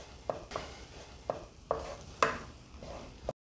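Flour being mixed into melted butter in a pan for bacon mac and cheese, heard as several separate scraping stirs about half a second apart, close and moderately loud, with no talking.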